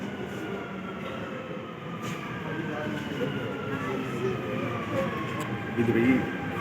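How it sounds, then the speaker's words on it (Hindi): A metro train in the UAE rumbles steadily into a station, a low continuous roar with faint voices in the background. "ये मेट्रो आ गई है जी"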